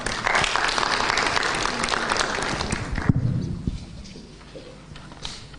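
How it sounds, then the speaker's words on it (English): Audience applause after a national address by Raila Odinga, a loud dense roar of many hands clapping for about three seconds, then dropping to scattered claps under a speaking voice. "A round of applause, ladies and gentlemen."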